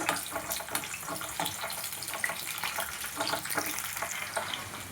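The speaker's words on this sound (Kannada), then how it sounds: "ಎಣ್ಣೆ ಕಾದಿದೆ ಅದಕ್ಕೆ ಕಟ್ ಮಾಡಿದಂಥ ಈರುಳ್ಳಿ ಮತ್ತು ಕ್ಯಾಪ್ಸಿಕಮ್ ಹಾಕಿ ಸ್ವಲ್ಪ ಅರ್ಧಂಬರ್ಧ ಫ್ರೈ ಮಾಡ್ಕೋಬೇಕು" Chopped onion and capsicum fry in hot oil in a kadai for paneer gravy, giving a busy, moderate sizzle with scattered pops and crackles and no talking.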